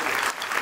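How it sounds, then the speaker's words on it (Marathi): Audience at a Bhondla 2025 event in Pimpri Chinchwad bursts into loud applause for the event's sponsors, a brief dense wash of many hands clapping together. "त्यांच्यासाठी दोघांसाठी एकदा जोरात टाळ्या सगळ्यांनी घ्यायच्या आहेत."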